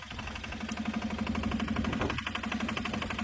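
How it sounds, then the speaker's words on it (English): A turbocharged Polaris diesel engine keeps running after its kill switch is pressed, a steady idling drone with a rhythmic knocking pulse, close and fairly loud throughout, without speech. "This is supposed to shut the engine off, but obviously it doesn't."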